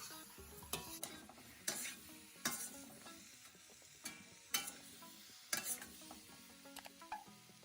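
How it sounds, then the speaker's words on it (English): Cauliflower and broccoli get stirred into a pan of frying beef sauce, producing faint sizzling with several distinct scraping strokes spaced about a second apart, quiet and close. "I'll add in my cauliflower and broccoli and stir everything together."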